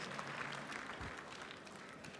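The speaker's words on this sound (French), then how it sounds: "Sous vos applaudissements." Faint, distant applause from the audience at the Bocuse d'Or culinary awards ceremony finale, a soft continuous wash of clapping in a large hall.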